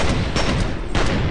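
Pistol shots fired in the video game F.E.A.R. during a fight with ghost enemies in a corridor, several sharp loud bangs in quick succession over a little over a second.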